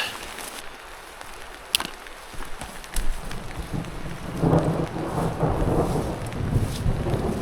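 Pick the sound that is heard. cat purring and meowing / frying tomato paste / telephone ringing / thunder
thunder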